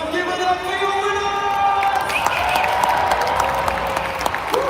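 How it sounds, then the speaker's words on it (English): An arena crowd at the Fortnite FNCS Grand Finals applauds and cheers steadily for the tournament winner, a broad continuous roar with a loud voice over a PA at the start. "They're cheering extremely loud when he did the walkthrough"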